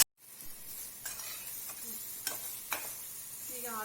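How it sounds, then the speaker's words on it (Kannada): Turmeric being added to hot oil for a tempering, with a steady soft sizzle and hiss throughout and a few sharp clinks of a utensil against the pan, no voices. "ಒಗ್ಗರಣೆಗೆ ಸ್ವಲ್ಪ ಅರಿಶಿನ ಹಾಕೊಳ್ತಾ ಇದ್ದೀನಿ."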